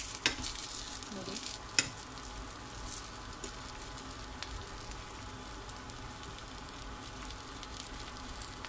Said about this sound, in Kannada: ಎರಡು ಸೈಡ್ ಫ್ರೈ ಮಾಡ್ತೀನಿ ಚೆನ್ನಾಗಿ, ಬೇಯಬೇಕು